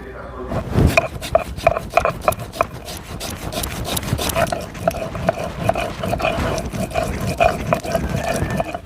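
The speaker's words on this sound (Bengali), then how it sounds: "এদিকে আমি সমস্ত মশলাগুলো বেটে নিচ্ছি আদাও দিয়ে দিচ্ছি" Spices and ginger ground into paste by hand on a stone, a steady rhythmic scraping and rubbing close by, repeating strokes throughout with faint household background.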